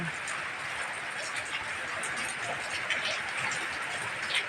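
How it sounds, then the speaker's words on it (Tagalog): Steady, dense hiss of heavy rainfall pouring down without pause amid strong wind, with scattered splashes and patters close by. "napakalakas ang ulan guys"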